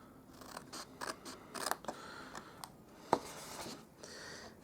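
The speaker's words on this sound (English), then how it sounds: "I will cut up to these score lines there and cut this bit completely off" Scissors snipping through scored cardstock while making a small note card gift box, a run of quiet, close, crisp cuts in an irregular rhythm with a sharper snip partway through and no talking.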